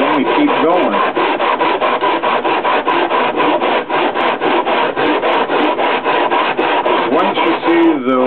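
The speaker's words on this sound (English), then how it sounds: "So basically you'll sand it down and you get sawdust that'll build up." Wooden guitar kerfing is sanded by hand in fast, even back-and-forth strokes, a close, loud rhythmic scratchy rasp that continues steadily for several seconds without speech.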